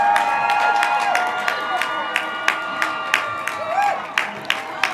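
Graduation audience at a school ceremony cheering and clapping for the last graduate walking to his seat, sustained crowd applause with whoops and shouts, close and steady.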